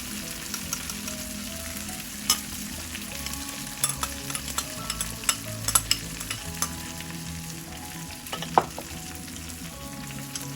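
Steady sizzling of spices, including turmeric and asafoetida, frying in hot oil over medium flame for lemon rice, with occasional sharp crackles and pops above the constant hiss, close up and with no voices.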